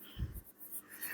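A teacher writes on a board in a classroom, producing short scratchy strokes with a soft thump near the start, faint and close with no talking.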